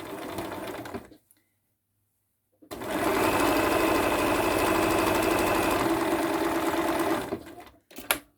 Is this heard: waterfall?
no